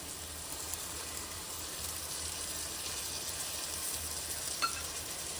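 Masala sautéing with curd in a pan for vegetable dum biryani gives a soft, steady sizzle and bubbling hiss, fairly quiet and continuous, with a faint clink of a utensil near the end.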